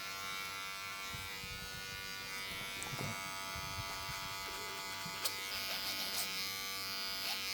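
Electric hair clippers with a half guard buzz steadily and close up while blending a skin taper fade near the sideburns, a continuous hum with slight changes as the blade works up and off the hair.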